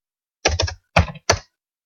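Three short bursts of computer keyboard typing, crisp and close, clustered keystrokes separated by brief pauses, with no talk.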